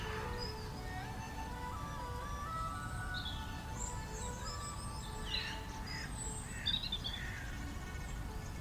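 Birds chirp in a park during a morning qigong session, scattered small tweets and calls over a steady breezy background hum, fairly faint and somewhat distant.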